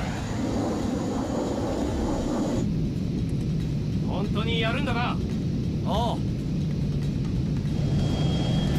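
A jet aircraft in Ninja Gaiden 3: Razor's Edge roars with a constant loud, broad rumble throughout, while voices speak over it briefly.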